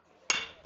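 One sharp crack as a baseball bat meets a pitched ball at a club baseball game between NC State and ECU, a single loud hit with a short ringing tail over quiet background.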